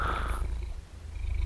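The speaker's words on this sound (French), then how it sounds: "chat, il ronfle." A cat snores close by with a soft, rumbling, purr-like rasp that fades briefly midway and then swells back.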